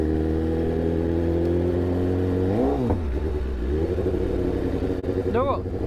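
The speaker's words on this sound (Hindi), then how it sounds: "कावासाकी का जो इंजन रहता है ना बहुत ही रिफाइंड रहता है" A Kawasaki Z900 motorcycle's engine hums steadily at idle, then blips in two quick revs that rise and fall, loud and close, with a voice talking over it.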